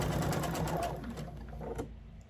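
Sewing machine stitching a quilt seam on an Atomic Starburst quilt, a steady close motor whir with rapid needle pulses that slows and fades near the end, with faint room sounds underneath.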